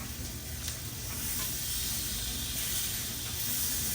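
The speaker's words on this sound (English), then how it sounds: "let's flip these oxtails over" Oxtails sear in a hot pan with a steady, loud, continuous sizzle and hiss that holds level throughout, with no voices.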